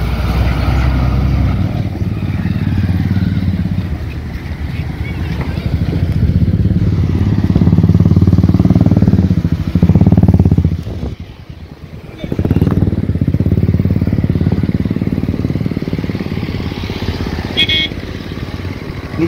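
Car interior on a coastal drive near the Pamban bridge toward Rameswaram, with steady engine and road rumble that dips briefly then resumes; a person talks over it.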